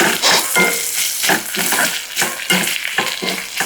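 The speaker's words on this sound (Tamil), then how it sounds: "இப்போ வெங்காயம் பச்சை கொச்சிக்காயெல்லாம் நல்லா வதங்கிருச்சு" Onions and green chillies sizzle in hot oil while being stirred for a mango curry, with steady frying hiss broken by repeated scraping strokes, close and alone.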